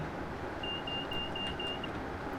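Train cab warning beep in a train simulator video game, British Rail Class 325 on the West Coast Main Line, a steady high beep lasting about a second over a constant cab rumble.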